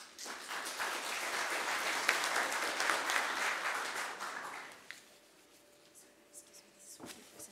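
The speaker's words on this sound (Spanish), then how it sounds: "Lo recibimos nuevamente con aplausos." A conference audience applauds steadily for about five seconds, then the clapping dies away into quiet room noise with a few scattered claps.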